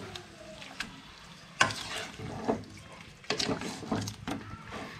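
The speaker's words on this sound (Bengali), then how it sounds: "মাংসটা কষাতে যেটুকুনি একটু কষিয়ে নিতে হবে" Meat is stir-fried with fried onions in a pan, giving a soft, steady sizzle broken by scraping and clanking stirring strokes, with brief speech in the background.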